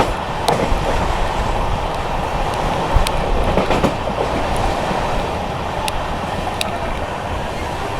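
The Gurumukhi superfast express races at high speed through a station on the Jasidih–Kolkata line, with a loud continuous roar of wheels and rushing air, broken by sharp periodic clacks and clicks as it passes over rail joints.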